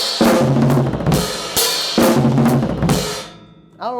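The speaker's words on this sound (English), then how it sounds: "The way you can make level 9 a little bit harder is to just throw in those 16th notes sooner" A drum kit plays a loud, driving beat with quick sixteenth-note hand patterns and cymbal crashes at the start of each phrase. It ends with a brief decaying ring and a short rising tone.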